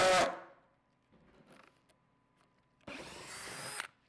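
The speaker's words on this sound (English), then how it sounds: "I'm going to go ahead and drill a hole for this inner section so that I can access it." A power drill boring a hole through wood sheet for a DIY composting toilet, a loud whirring burst at the start and a second sustained drilling run near the end, with quieter handling between.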